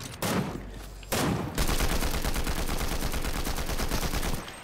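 Rapid automatic gunfire in Fortnite, two short bursts followed by a long sustained stream of evenly spaced shots, loud and close with almost no talking.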